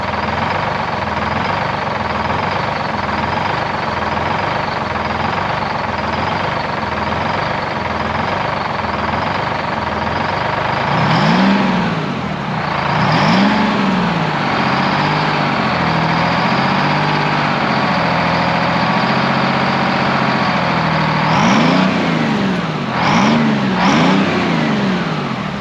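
A V12 engine in a 1973 Peterbilt 352 cabover truck runs steadily at a loud, close idle, with several revs rising and falling partway through.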